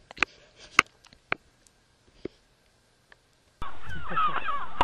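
Crow-like birds caw and chatter overhead at the Flat Holm Island nature reserve: a few sparse, sharp calls, then a sudden loud, dense burst of overlapping calls near the end.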